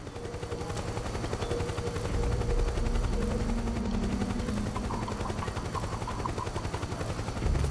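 Helicopter rotor thrum and bursts of gunfire in the video game Metal Gear Solid 4, a steady droning chop with scattered shots and rattling fire layered over it at moderate distance, without speech.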